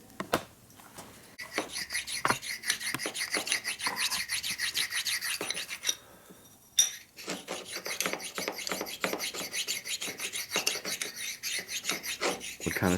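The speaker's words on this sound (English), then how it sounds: "It's a tool honing stone. Also known as an oil stone." Metal motorcycle engine parts from a 1958 Harley panhead 74ci top end are rubbed back and forth on an oil honing stone, a close, dry, rhythmic rasping in repeated strokes with a short pause midway.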